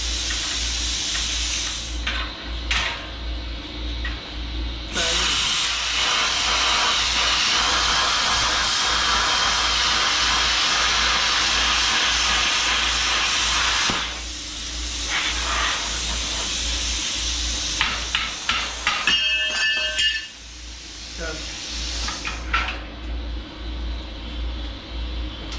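A Bestarc BTC500DP 7th-generation plasma cutter cutting metal, giving a loud, continuous hissing roar of the arc and air that runs for several seconds at a time, with short pauses, clicks and a steady low hum underneath.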